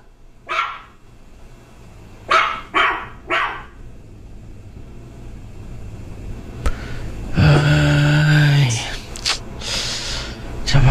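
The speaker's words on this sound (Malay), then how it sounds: "Sepanjang malam tak henti-henti anjing tu menyalak." A dog barks at night in a few sharp, loud bursts early on, followed by louder noise with voices speaking over it.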